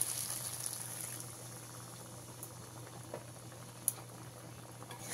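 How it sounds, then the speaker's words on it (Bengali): Water rinsed from a mixer jar is poured into a pan of cooking ridge gourd and potato with poppy seed paste, giving a steady, soft hiss of bubbling liquid with a few faint clicks, no talking. "প্রথমে মিক্সি ধোয়া জলটা দিয়ে দিলাম।"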